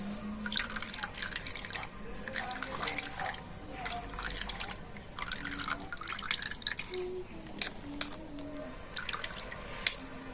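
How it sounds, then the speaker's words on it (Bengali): Spinach juice dripping through a kitchen strainer, a soft steady patter of drops and trickling liquid, quiet and close, with a faint hum in the background. "এখন আমি পালং শাকের জুসটা এই ছাগনির মধ্যে দিয়ে দেবো"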